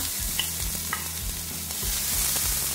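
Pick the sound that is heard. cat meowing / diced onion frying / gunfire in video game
diced onion frying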